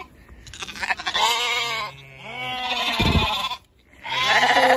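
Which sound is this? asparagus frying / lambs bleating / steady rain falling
lambs bleating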